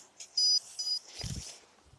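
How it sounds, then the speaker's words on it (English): Short high-pitched electronic beeps from an EMF meter sound twice in quick succession, followed by a brief soft thump, fairly faint in a quiet room. "If the EMF is high enough, it'll beep."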